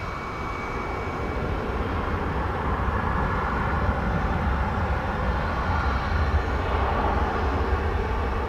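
A small Ameriflight puddle-jumper aircraft from Tuscaloosa at DFW Airport, a steady broad engine roar at moderate distance holding constant throughout, with no voices.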